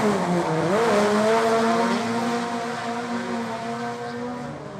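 Mazda rotary RX7 or RX8 race car running on track, smooth-sounding and pouring smoke. A loud, close, continuous rotary engine note whose pitch climbs, dips and then holds steady, with no voices.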